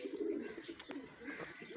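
Soft, low pigeon coos repeat in short, throaty phrases, fairly close and gentle, with faint rustling in the background.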